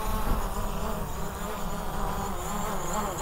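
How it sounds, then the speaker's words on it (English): A camera drone flies in to land outdoors in Iceland, its buzzing propeller whine steady and close throughout, with a faint wind rumble underneath. "We'll land it over here on the road."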